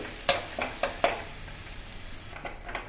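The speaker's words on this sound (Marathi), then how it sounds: "आता मिरची छान आपली परतून झालेली आहे" Green chilies frying in oil in a pan, a close hissing sizzle punctuated by a few sharp metallic clinks of a spatula against the pan, with no voices.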